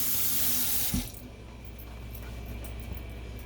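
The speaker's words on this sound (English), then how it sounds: "wash your hands again." Tap water runs into a kitchen sink for hand washing, a steady loud rush that cuts abruptly with a thud near one second, leaving a low hum and faint background noise.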